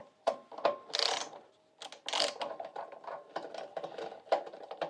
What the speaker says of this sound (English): So let me go ahead and remove the screws